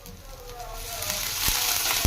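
Cleaned river snails sizzling and crackling in a hot frying pan in a village-style kitchen, a rising steady fry with occasional pops, a voice speaking over it.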